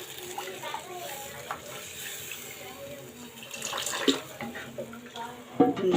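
Broth for a shing fish curry with potato and onion is poured into a pan, giving a soft, continuous splashing and trickling close by, with a few louder splashes and clinks toward the end.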